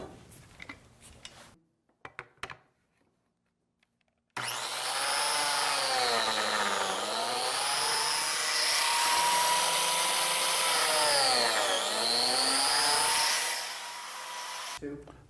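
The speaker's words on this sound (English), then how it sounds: "I'm going to get ready to cut some biscuit slots" A biscuit joiner whines up to speed and cuts slots in wood for a mid-century tambour cabinet, a loud, close, high-pitched run of about ten seconds with brief dips in pitch as it bites, after some quiet handling noises.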